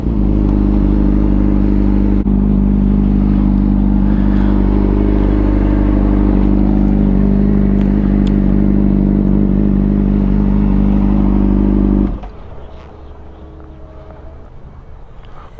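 A 2005 Honda CBR 600RR sport bike runs with a loud, steady engine drone and layered harmonics for about twelve seconds, then cuts sharply to a quieter idle.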